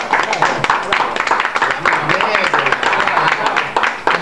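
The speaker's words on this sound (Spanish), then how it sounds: "Sí, un aplauso para la Médula." Clapping fills a radio studio on an AM talk program, a lively spread of hand claps running throughout with voices mixed in beneath.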